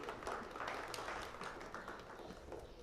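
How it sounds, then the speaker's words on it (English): Quiet, scattered applause from spectators around the ring at a Brown Swiss dairy cattle show, individual claps standing out in an uneven patter that fades slightly toward the end. "Let's give those young individuals another round of applause."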